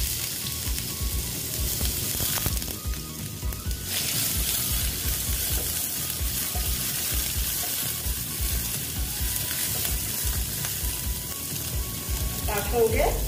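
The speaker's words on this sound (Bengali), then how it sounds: "এবার আমি পেঁয়াজ কুচি দিয়ে দিলাম।" Chopped onion hits hot oil and whole-spice tempering in a pan for aloo bhindi, giving a steady, close sizzle that crackles throughout, with a brief clatter of stirring near the end.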